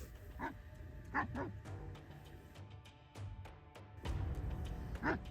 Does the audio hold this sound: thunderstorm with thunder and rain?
no